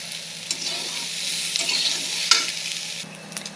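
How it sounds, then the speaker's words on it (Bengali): Cauliflower and potato pieces fry in a pan with a steady, close sizzle and hiss, broken by occasional stirring scrapes; no one speaks. "ফুলকপির সঙ্গে আলুও ভেজে নিলাম।"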